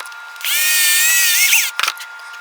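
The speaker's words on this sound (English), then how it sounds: "So however many times you have to pass that drill through it to get that done." A power drill bores out a small bevel gear to fit a 1/8 inch shaft, a single loud whining burst of just over a second, followed by a few quick clicks and handling knocks.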